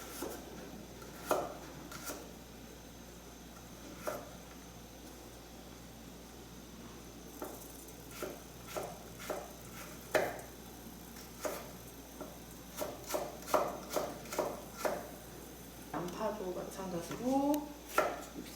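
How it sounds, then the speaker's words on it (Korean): A knife taps quietly against a cutting board while carrots are cut into thin julienne strips, in sparse strokes at first that grow quicker and denser toward the end. "당근 6cm 길이로 맞춰서 마찬가지로 채 썰어주세요"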